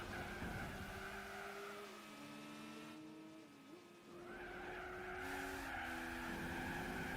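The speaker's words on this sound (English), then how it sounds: "It's so satisfying drifting around." Car tires squeal and skid continuously through a drift in Gran Turismo 4, with a steady engine note rising and falling beneath the screech, loud and close throughout.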